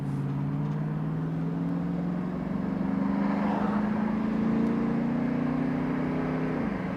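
A 1999 Ford Mustang GT convertible accelerates through its gears, heard from inside as a steady engine drone rising in pitch, then dropping with a shift near the end.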